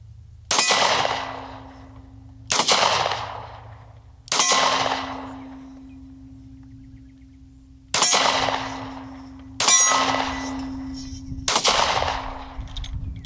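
Six loud, close shots from a Kimber Solo compact pistol, fired at a steel target about 10 yards away, spaced irregularly across the stretch, each sharp crack followed by a ringing metallic clang.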